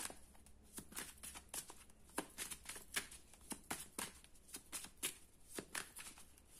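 Mandala oracle cards are shuffled by hand, a quick run of crisp riffling slaps and flutters repeating in an irregular rhythm, close and fairly quiet.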